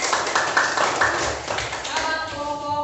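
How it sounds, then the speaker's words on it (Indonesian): A classroom of students claps for a group, quick clustered hand claps that ring out briefly over a lively background of voices and chatter. "Tepuk tangan dulu buat kelompok anggur."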